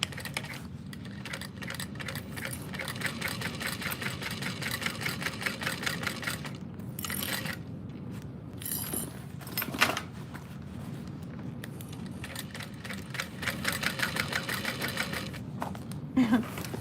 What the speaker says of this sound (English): So I'm gonna start my top stitching behind a strap connector.